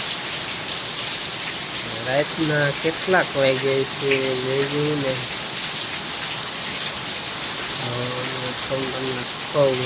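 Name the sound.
heavy rain at night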